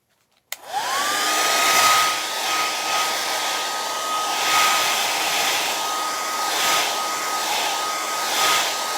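After a brief click, a hair dryer switches on and blows steadily with a constant whine and loud rushing air, running on without a break.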